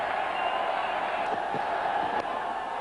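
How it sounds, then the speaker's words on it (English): Large cricket stadium crowd at the 1996 World Cup roaring after a boundary, a dense, steady wall of cheering and whoops from far and wide, loud and continuous throughout. "This crowd has come alive."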